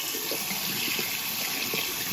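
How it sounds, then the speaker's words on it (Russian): Running water from a tap pours in a steady hiss and splash as a cleaned metal-detecting find from a World War II site is rinsed, with no talking. "Пойдемте смоем водой и посмотрим."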